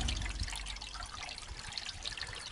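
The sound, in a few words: grey water draining from an RV holding tank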